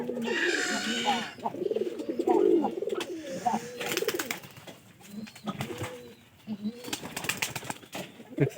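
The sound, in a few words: pigeon cooing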